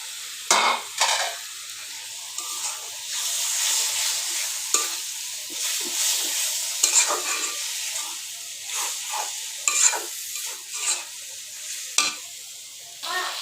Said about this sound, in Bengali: ওই যে মাছের তেলটা দিয়ে দিব, তাইলে মানে পেঁয়াজটা ভাজা হবে সুন্দর